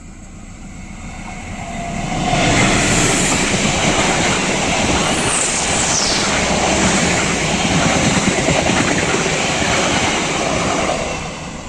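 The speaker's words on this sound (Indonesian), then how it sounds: "dari arah timur persiapan melintas langsung kereta api Cikuray dengan tujuan akhir stasiun Pasar Senen" Cikuray passenger train bound for Pasar Senen passes on the new Haurpugur–Cicalengka double track, rising from quiet to a loud, sustained rumble with steady wheel clatter that holds for most of the stretch before easing off.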